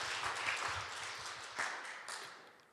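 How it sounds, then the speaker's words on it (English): A short, fairly faint round of clapping from the audience at an upstream petroleum local content policy consultation. The applause is dense and fades over under three seconds, with no speech over it. "give each other just a warm hand of applause for all the hard work that we have done today"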